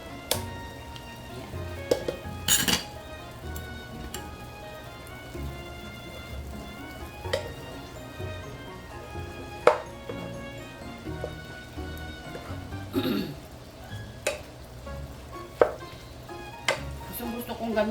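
Pancit bihon noodles are stirred in a nonstick pan with soft scraping and irregular clicks and clatters of the utensil against the cookware, over a faint sizzle.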